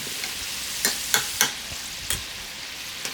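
Potato wedges fry in hot oil with a steady, close sizzle, broken by several sharp clinks and scrapes as crumbs are skimmed out; no one speaks.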